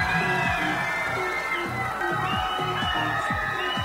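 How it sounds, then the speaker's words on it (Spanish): A crowd at the Miss Mexico 2023 pageant final cheers and shouts in a steady, dense wash, with a rhythmic music beat pulsing underneath. "Fuerte el aplauso para recibir a Miss"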